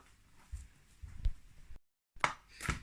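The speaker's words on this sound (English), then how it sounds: "So just really roughly chopping the garlic" A kitchen knife roughly chops garlic on a board in a few soft, irregular thuds, quiet and close, with a brief silent gap partway through.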